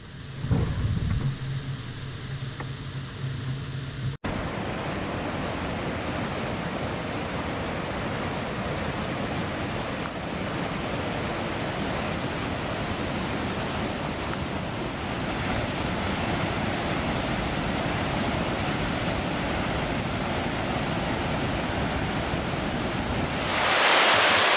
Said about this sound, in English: We just had to pull over and check these gorgeous falls out.